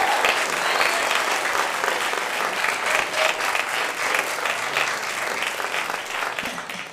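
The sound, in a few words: audience applause welcoming a speaker to the stage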